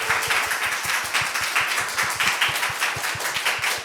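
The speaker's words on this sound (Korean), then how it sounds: "박수." Audience applause at a Korean user meetup for the mobile game Outerplane, rising as a steady wash of many hands clapping in the room, fairly loud and close, with no talk over it.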